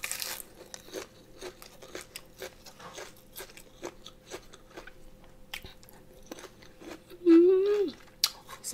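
Crunchy pig ears dipped in spicy chili sauce are bitten and chewed close up, with a steady run of small crisp crunches followed by a louder burst near the end.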